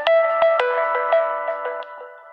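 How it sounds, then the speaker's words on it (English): An incoming-call ringtone plays on a phone, a bright melodic run of rapid tonal notes, close and fairly loud, fading toward the end with no talking over it. "That is a phone call."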